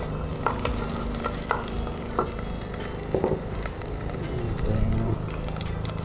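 Garlic and onion sautéing in a pan, a steady close sizzle broken by a few scraping stirs of a utensil, with no one speaking.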